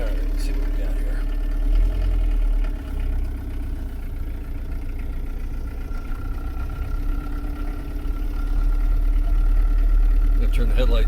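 A turbo diesel Trooper engine idles steadily inside a vehicle, a constant low rumble with a faint whine, while someone talks over it.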